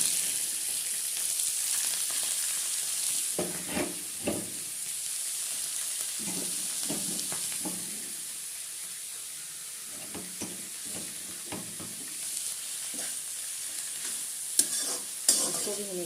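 Cabbage, potato and pea vegetables frying on low heat in a pan, a quiet steady sizzle broken by repeated scraping stirs of a spoon, close and without voices.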